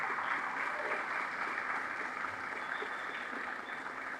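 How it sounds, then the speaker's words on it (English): A firefighters' awards banquet crowd applauds the dinner organizers with steady, sustained clapping from many hands, evenly dense and moderately loud for several seconds without any voices. "Can I please get a round of applause for the organizers of tonight's dinner?"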